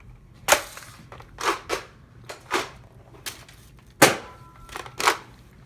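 A blue Nerf Rival Apollo XV-700 blaster fires about eight sharp, close plastic pops at an uneven pace, each one a short snap over near silence.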